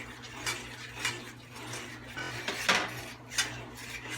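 Spoon stirring gravy in a pot for smothered pork chops, soft scraping with intermittent clinks against the metal pan, unhurried and fairly close, with a faint background hum.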